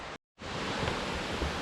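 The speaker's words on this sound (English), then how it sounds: "I can still hear the water," Creek water rushes out of sight in White Oak Canyon, a steady broadband hiss that briefly cuts out near the start, then continues evenly with no voices.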